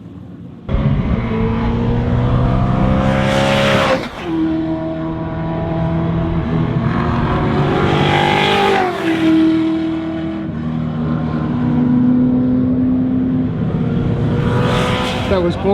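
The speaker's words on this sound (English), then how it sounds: "experience all of the beautifully presented cars on track at the same time" TransAm race cars, including a number 42 Cuda, lap the track during qualifying at Australian TransAm Round 1, with loud V8 engines roaring and rising through gears as several cars pass close by in quick succession.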